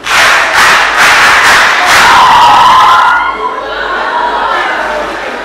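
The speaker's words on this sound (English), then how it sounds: "Let us congratulate them with a hand clap." A school audience at a debate championship final cheers and shouts loudly for the finalists, a roaring burst of excited voices that fades into scattered chatter and laughter, with little clear clapping.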